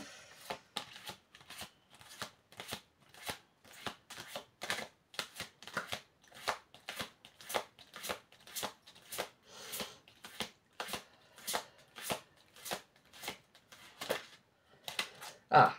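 Cards are shuffled and drawn in a steady series of soft, quick riffling flicks, close by and fairly quiet, for a tarot-style reading.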